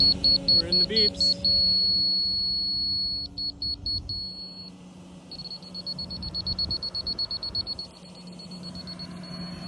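Rapid electronic beeping from 2D grade-control equipment on a Volvo excavator digging a house foundation comes in bursts and runs, over a low engine rumble with some talking.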